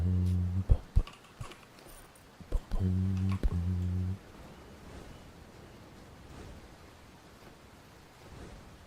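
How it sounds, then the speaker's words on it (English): Keyboard keys clicking during a session of the online game Arcane Odyssey, a few quick taps near the start then a dense burst of clicks mid-clip, over steady hiss and faint background noise. "Ooh, your keys clicking."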